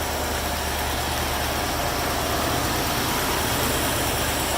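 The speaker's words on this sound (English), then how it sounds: "This car is powered by its original 425 V8 engine." The original 425 V8 engine of a 1978 Cadillac Eldorado Biarritz Coupe idles continuously, a steady low rumble with a broad hiss, moderately loud and unchanging throughout.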